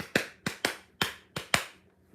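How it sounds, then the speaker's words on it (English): Six sharp hand claps ring out alone in an uneven rhythm, close and crisp, each with a short decay into a quiet room. "This clap."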